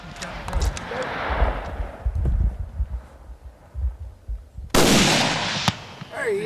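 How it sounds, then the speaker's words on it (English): A rifle fires at an elk during a hunt in misty Pike County, Eastern Kentucky, one sharp loud crack late in the clip after hunters murmur quietly over outdoor background noise. "Shoot him again."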